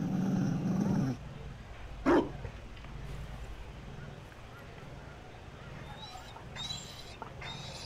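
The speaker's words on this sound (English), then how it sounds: "Cullen playing with the dog." Dog barking in Dragon Age Inquisition, a short burst of one bark standing out over quiet game ambience, with voices talking before and after.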